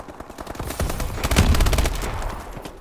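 Rapid automatic gunfire in the shooter game Call of Duty: Advanced Warfare, a fast string of close, loud shots that swells to a dense burst midway before tapering off.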